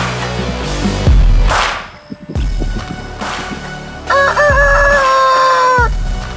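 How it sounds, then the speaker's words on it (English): A toy rooster crows loudly, a near cock-a-doodle-doo with rising and sustained tones, following other short toy animal sounds and clatter. "Rooster."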